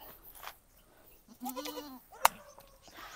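A newborn female goat kid bleats once in a short wavering cry, close by, with a sharp knock and faint handling noises around it and no talk.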